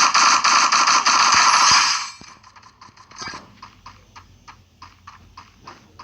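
In the Free Fire video game, a loud burst of rapid gunfire rattles for about two seconds, then scattered lighter shots and clicks continue in quick irregular bursts.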